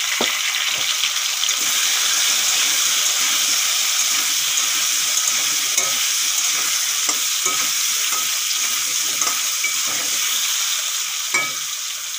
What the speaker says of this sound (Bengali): আলুগুলো বেশ লাল লাল করে ভেজে নেব